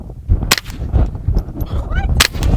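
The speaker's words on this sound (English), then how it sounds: "the suppressor quiets the boom of the gun" Two sharp suppressed gunshots from a handgun firing subsonic ammunition, spaced about two seconds apart. Each is a brief, dry crack over steady low background noise.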